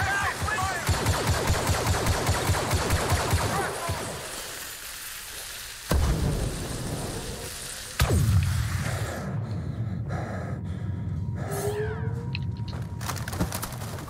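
Heavy weapon gunfire in Star Wars Battlefront 2, a rapid loud stream of blaster shots for the first few seconds, then scattered bursts and impacts amid game ambience.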